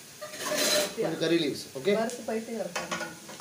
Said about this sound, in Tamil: இது நத்தைக்காக 2 வெங்காயத்தை வதக்கிட்டு இருக்கிறோம்.